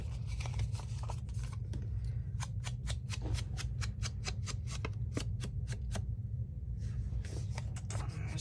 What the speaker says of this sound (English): Erase my pencil marks.